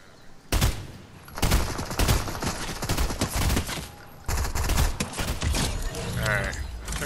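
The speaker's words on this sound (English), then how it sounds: "Oh wait, his partner's shooting at me." Rapid gunfire bursts from the video game Fortnite crack repeatedly and loudly in quick volleys, mixed with close game effects, under players talking throughout.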